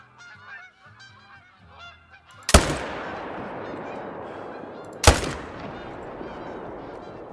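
Rifle fire at a whitetail deer in a hunting video game: geese honk softly in the background before two sharp, loud gunshots, a few seconds apart, each ringing out into a long, rolling echo.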